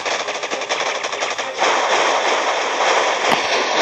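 Rapid machine-gun fire from the Boom Beach mobile strategy game, a loud continuous rattling burst that swells into a denser roar midway, with a single sharp blast near the end and no voices.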